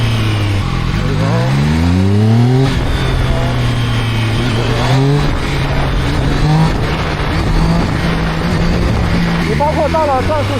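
A ZXMOTO 820RR sport motorcycle engine revs up repeatedly with the clutch held and throttle blipped, rising and falling pitch sweeps, loud and close, with someone talking over it.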